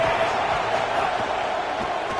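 A football stadium crowd roars steadily, a broad sustained wash of cheering and voices with no breaks, loud and continuous throughout.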